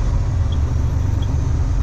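A truck engine idles with a steady low rumble as the clutch is engaged with no load, a continuous close drone that holds even throughout.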